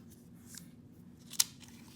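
A single sheet of origami paper folded in half, giving a brief, crisp paper crease-and-rustle sound near the middle of an otherwise quiet stretch with faint background hum.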